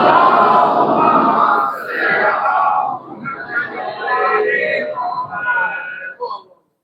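A crowd at a Shia majlis in an imambargah chants durood aloud together, a loud, dense wash of many voices rising and falling in unison before cutting off abruptly.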